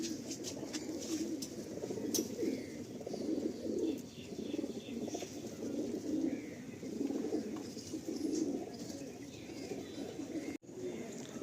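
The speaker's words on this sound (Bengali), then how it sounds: "এটা দিল্লি থেকে আনা পায়রা" A pair of Lal Phul pigeons brought from Delhi coo in low, steady murmurs that run through the whole stretch, with faint chirps above them and a brief thump near the end.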